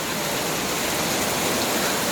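Heavy rain pours down in a dense, loud, unbroken hiss that fills the whole moment without pause.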